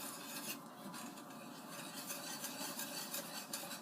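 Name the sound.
whisking dry hot chocolate mix ingredients together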